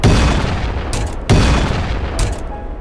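Heavy revolver shots in the VR game ULTRAKILL, two loud booming blasts about a second and a half apart, each decaying into a rumbling tail.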